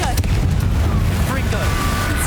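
A Confringo fire spell explodes in Hogwarts Legacy: a loud, deep boom with a rumbling low-end tail that fills the whole two seconds.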